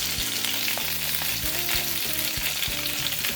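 Salmon fillets searing in a frying pan, seasoned with salt and pepper, give off a constant, fairly close sizzle and crackle, with background music playing beneath.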